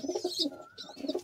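Pigeons in a loft give a few soft, throaty coos in quick succession, close by, with a thin chirp and faint whistle-like tones above them and no talk.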